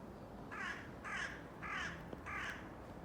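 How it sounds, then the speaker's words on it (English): A crow in a garden tree caws four times in an even rhythm, each call harsh and moderately distant, with quiet outdoor ambience between the calls. ""Good morning," said the crow,"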